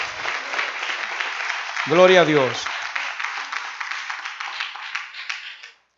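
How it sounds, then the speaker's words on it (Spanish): A church congregation applauds continuously while someone speaks loudly over the clapping; a brief deeper vocal swell rises mid-way before the applause fades out at the end. "Un aplauso al Señor."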